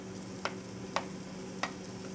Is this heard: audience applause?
no